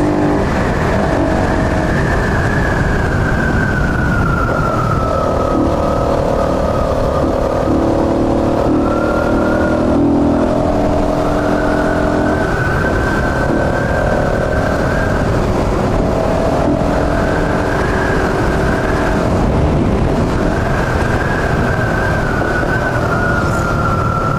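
A Flash 150X motorcycle engine revs hard at full throttle, a loud continuous drone with wavering pitch rising and falling over road and wind noise, close and unbroken throughout.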